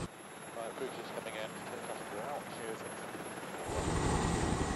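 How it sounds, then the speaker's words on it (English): A Royal Navy airborne early warning helicopter's rotor and engine drone at a distance under a person talking, growing louder and closer toward the end. "This is one of the Royal Navy's airborne early warning helicopters."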